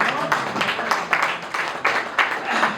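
An audience at a Hindi poetry recital breaks into irregular clapping that swells in repeated bursts for a few seconds, close and fairly loud.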